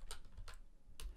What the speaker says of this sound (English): you can type percentage sign